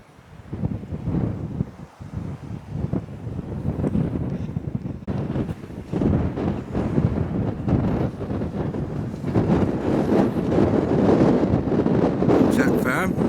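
Strong wind buffets across open moorland, roaring and gusting unevenly against the microphone throughout and swelling louder toward the end.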